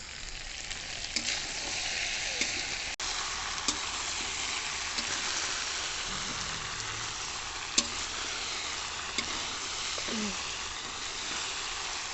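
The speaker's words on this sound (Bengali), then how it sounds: "আমি আজকে শ্বশুরবাড়ি চিকেন রান্না করছি" A large batch of chicken cooking in a pan, a steady fairly soft sizzle with occasional clatters and stirring scrapes.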